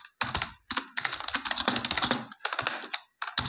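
Code typed on a computer keyboard: quick runs of close, crisp key clicks in uneven bursts separated by short pauses.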